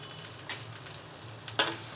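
Chopped onion, garlic and green chillies frying in mustard oil in a pan, a faint steady sizzle with a couple of brief stirring scrapes, no voices.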